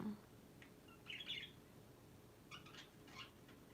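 A pet bird named Barry chirps at its mirror reflection, a few short, faint high tweets in small clusters over a quiet room hum.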